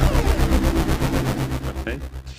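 An Ableton Analog software synthesizer runs two discrete channels, each oscillator passing through its own filter and amp. It produces a loud, buzzy low tone in rapid rhythmic pulses that thins out and fades near the end.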